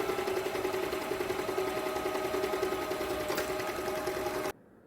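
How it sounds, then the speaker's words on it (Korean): Overlock machine running steadily as it serges the edges of 100% hemp fabric pieces for a kitchen pouch, a close, continuous buzzing drone that stops abruptly at the end. "오버락을 쳐줄 거예요."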